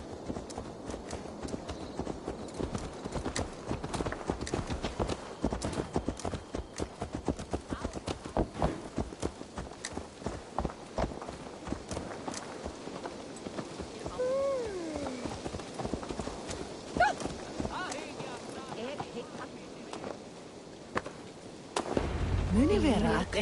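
Steady, rhythmic hoofbeats of a horse clip-clopping along for a long stretch in Assassin's Creed Valhalla, with a brief rumble near the end.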